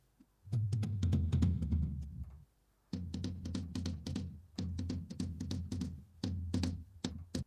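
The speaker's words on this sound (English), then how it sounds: "We have a pretty good tom track here." Isolated drum tom track separated by AI from a 2008 concert recording in Mexico, with booming low tom hits in quick rolling bursts, a short gap, then further rapid fills, close and fairly loud.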